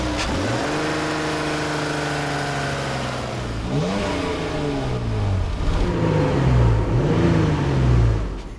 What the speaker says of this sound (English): With the V6 aboard, the Cherokee steps off the line quickly and has a strong mid-range